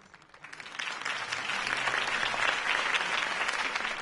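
A crowd applauds after a campaign speech in the Batman Telltale video game, a dense clapping roar that swells after a quiet start and then holds steady, with no talk over it.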